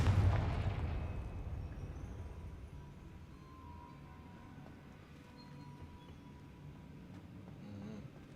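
A Confringo spell explosion in Hogwarts Legacy, with a loud, deep boom at the start that rumbles and fades over several seconds, followed by low ambient noise.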